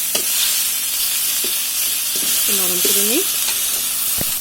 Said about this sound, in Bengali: হালকা একটু নরম করে নেব টমেটোটাকে।